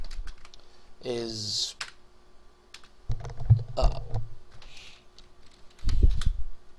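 Computer keyboard typing in a quiet room, heard as close bursts of key clicks in short clusters while someone speaks over parts of it.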